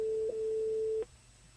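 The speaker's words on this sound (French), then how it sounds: "Olga, décroche le téléphone ce soir" A steady telephone ringback tone sounds while a call is placed to a listener during a live television broadcast, holding for about a second before cutting off abruptly into quiet line noise.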